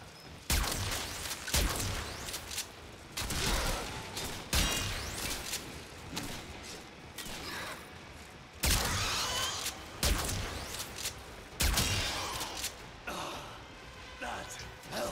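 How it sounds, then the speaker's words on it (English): Radiation rifle fire in the Warframe video game, loud repeated bursts in irregular clusters separated by short gaps, with game effects around it. "Luckily I have a radiation rifle."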